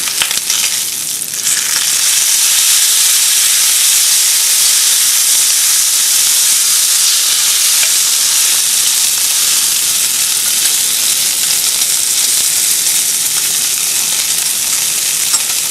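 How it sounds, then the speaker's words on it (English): A single piece of bacon frying in a large skillet, a loud, close, continuous sizzle and hiss that holds steady throughout with no talking. "in a large skillet, I'm going to cook up 1 piece of bacon"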